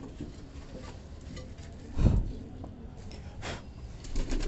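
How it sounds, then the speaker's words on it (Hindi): A white pigeon coos softly amid quiet background noise, with a brief flutter or thump partway through. "ये भाई एक सफ़ेद कबूतर है"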